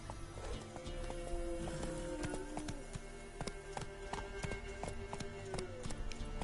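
Hoofbeats of Roach, the horse in The Witcher 3, clip-clopping at a run over a busy game soundscape, steady and fairly close, with some speech-like voices mixed in.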